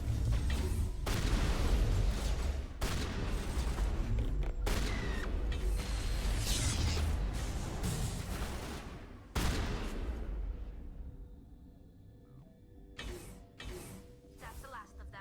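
Sustained gunfire in a Mass Effect firefight inside a lab, dense bursts of shots and mechanical clatter roaring continuously for several seconds, then thinning to scattered sharp bursts as the fight winds down.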